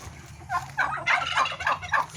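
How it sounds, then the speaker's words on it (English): Blue slate turkeys gobble close by in a rapid, warbling chorus of several overlapping calls over a low background hum. "And these are blue slate turkeys."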